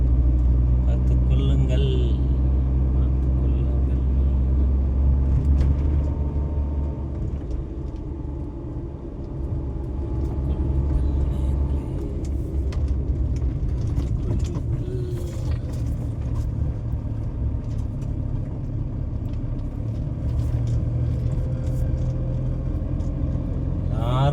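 A new vehicle climbing an uphill road, giving a continuous low engine rumble that dips briefly and then steadies, close by throughout.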